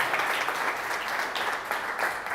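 Brief burst of applause from a small audience in a coffee shop, a dense, even patter of clapping hands at moderate level with no voices over it.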